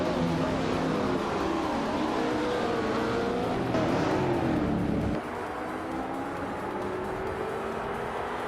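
Race cars roar around the Ottawa GP track, led by a 1966 McLaren M1B, in a steady loud engine drone with shifting pitch that drops suddenly past the five-second mark.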